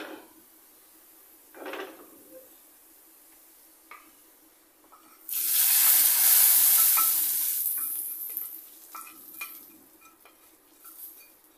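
Fried onion and garlic tipped into lentil dal with sajna greens hits with a sudden loud hiss that swells for a few seconds and then fades, after quieter scattered clinks and stirring, with no talk.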